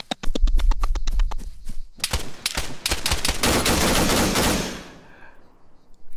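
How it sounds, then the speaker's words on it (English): Rapid automatic gunfire from the tactical shooter game Argo, with a fast string of close, sharp shots followed by a dense, sustained burst of overlapping fire that fades out at the end. "look at the amount of friendly fire that's going on"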